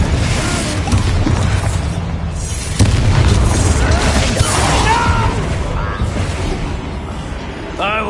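A Confringo fire spell bursts in a video game: a booming blast with crackling debris that swells mid-clip and rumbles on beneath cast effects, over background voice lines.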